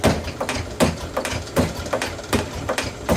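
Metal shaper knurling a round part, a harsh rhythmic chatter of repeated heavy strokes with clanking metallic hits over a steady machine rumble, loud and close with no talking.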